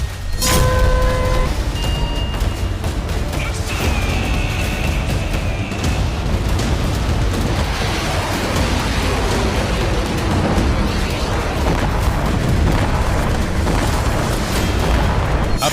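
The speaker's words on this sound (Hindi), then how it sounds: "इस बार किम ने अपनी आर्टिलरी की ताकत को परखा है।" North Korean artillery firing test: loud, continuous rumbling booms and blasts roll one into another, with a heavy low roar filling the whole stretch and no talk.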